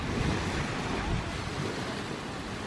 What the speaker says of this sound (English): It's windy today, not like really gusty